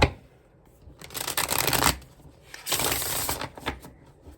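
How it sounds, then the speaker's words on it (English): Tarot cards being shuffled by hand in two riffling bursts, close and fairly loud, with a quiet pause between them and no talking. "Okay, one more shuffle."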